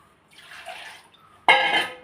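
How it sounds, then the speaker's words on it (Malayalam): Water is poured into a bowl of rice batter for kozhukatta: a soft, faint trickle first, then a sudden louder splashing pour that continues to the end, with no talking. "ഇതിൻ്റെ ഇച്ചിരൂടെ വെള്ളം ഒഴിക്കാം"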